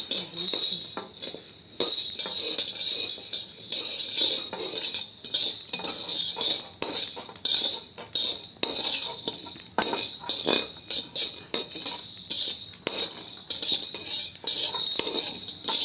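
Metal spoon scraping and clinking against a pan while cumin seeds and chana dal dry-roast, repeated irregular stirring strokes up close with faint sizzle and a soft voice in the background.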